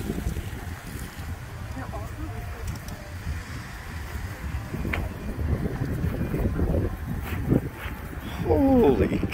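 Low, rumbling wind buffets the microphone in strong, uneven gusts, with faint birdsong and a brief voice in the background.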